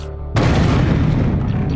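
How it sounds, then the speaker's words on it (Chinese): A real gas explosion fired as a test goes off with one sudden loud boom after a brief quiet moment, then a dense rumbling roar that holds for over a second. "The gas explosion we just did had a very sudden onset"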